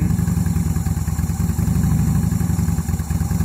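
A 2010 Honda Shadow Phantom motorcycle engine idles steadily with its idle turned down, a close, loud, even low throb with faint clatter running throughout, with no talking.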